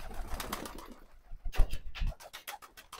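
Pigeons outside their coop coo repeatedly in soft, throaty, pulsing calls, close by and uneven in rhythm, with a faint flutter or patter in between.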